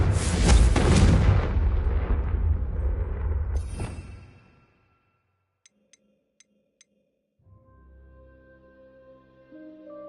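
A loud, roaring fire-spell blast from Hogwarts Legacy bursts out and rumbles before cutting off, then a few soft ticks and quiet game music follow.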